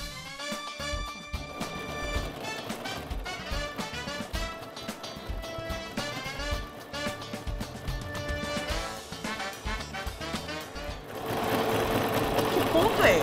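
An electronic domestic sewing machine stitches a zigzag, a fast, steady mechanical rattle running throughout at close range, with a louder whirring stretch near the end; people talk over it.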